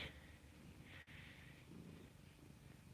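A soft, steady cat purr rumbles close by, continuous and low, with a brief break partway through.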